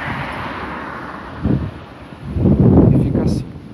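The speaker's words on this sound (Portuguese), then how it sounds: "Mas o vento vem, força, depois passa" Strong wind gusts buffet an exposed hilltop in Porto Alegre during a subtropical cyclone, rising in two rough surges that roar against the microphone and then ease back to a steady hiss.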